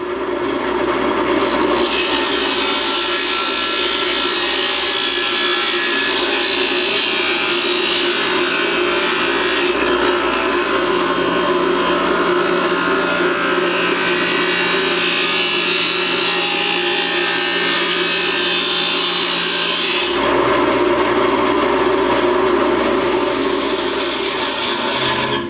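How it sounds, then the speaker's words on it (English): A disc grinder runs loud and continuous, close up, with a harsh abrasive roar that holds steady for about twenty seconds and then shifts in tone near the end. "So let me get the grinder started here."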